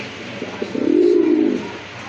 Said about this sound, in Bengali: এই যে দেখেন কবুতর কতটা অ্যাক্টিভ আর সতেজ কবুতর